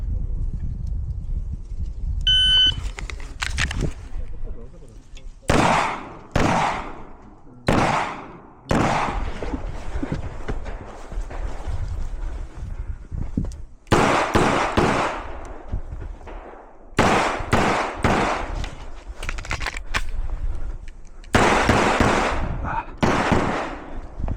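Sharp gunshots crack at a shooting competition in irregular bursts, some single and some in quick strings, loud and close with brief pauses between volleys; no talking.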